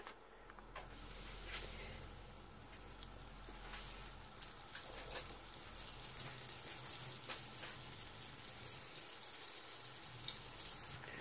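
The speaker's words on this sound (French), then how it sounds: "je prends un donut, je vais le mettre dans de l'huile." Steady, crackling sizzle of a doughnut frying in hot oil, a dense hiss of tiny pops running continuously at close range.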